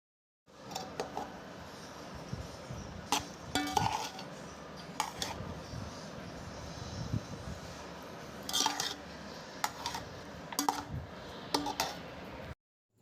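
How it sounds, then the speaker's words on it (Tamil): Cooked white rice stirred through a pot for temple-style lemon rice, with faint scattered clinks and taps of a spoon against the pot over a soft, scraping background. "வடித்த வெள்ளை சாதம் ஆட் பண்ணி நல்லா மிக்ஸ் பண்ணுங்கள்"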